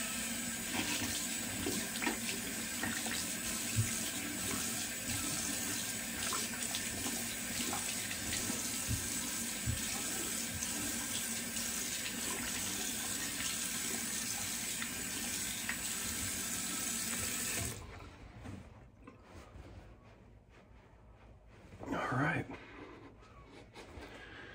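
Tap water runs steadily into a sink for rinsing alum off the face after a wet shave, a loud constant rush that stops abruptly, leaving a few faint splashes.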